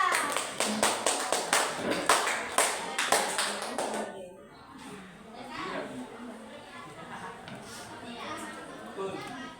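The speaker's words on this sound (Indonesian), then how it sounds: "tepuk tangan untuk kelompok 2" Classroom applause for a student group, rhythmic unison claps for about four seconds, then fading into children's chatter and scattered voices.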